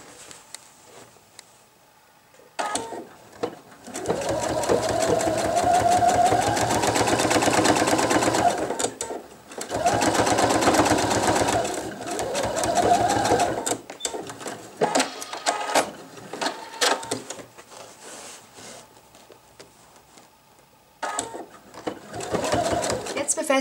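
A domestic sewing machine topstitches along the edge of a men's wallet in repeated bursts of rapid mechanical stitching, each run several seconds long and separated by pauses, with a voice speaking between and over the runs.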